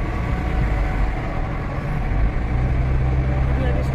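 Steady, loud road rumble and engine drone from a car driving through a tunnel on the Hazara Motorway, with a booming, reverberant wash that fills the whole stretch without break.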